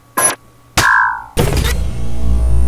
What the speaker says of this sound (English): that last sound was that of you lifting the crate.